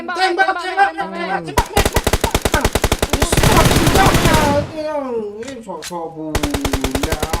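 Rapid automatic gunfire in the mobile battle royale game PUBG Mobile, loud and close, with long dense bursts broken by short gaps and interleaved with game sounds, while excited voices shout over the action.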